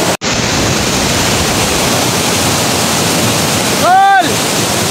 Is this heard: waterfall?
yes